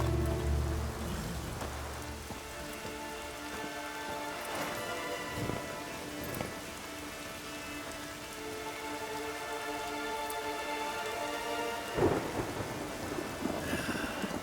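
Thunderstorm ambience from The Witcher 3: steady rain pattering on surfaces throughout, with rolling thunder rumbles and a sharper crack near the end, fairly even and moderately loud with no voices.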